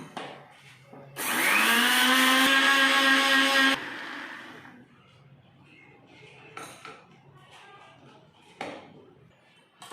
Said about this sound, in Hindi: इस धनिया को मैं मिक्सी के अंदर पीस लेता हूँ।